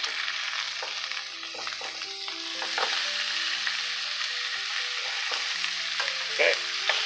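Bone-in New York striploin steak frying in a pan with garlic and a lot of butter, a continuous bright sizzle with scattered pops and some clinking in the background.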